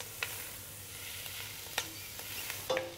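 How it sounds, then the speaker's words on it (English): Fennel frying in a pan as stirred, a quiet, steady sizzle with a few light scrapes and clicks of a utensil, no talk over it. "Next, we add the fennel, stirring occasionally for 1 to 2 minutes."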